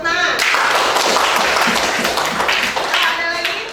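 Classroom applause breaks out as students clap together, a dense, steady patter of hands lasting several seconds with children's voices mixed in.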